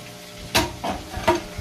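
Onions fry in a pan with a soft sizzle, broken by three sharper scraping stirs against the pan, close and moderately quiet.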